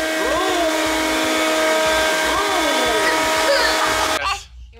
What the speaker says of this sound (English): Oh, the vacuum cleaner makes a loud noise.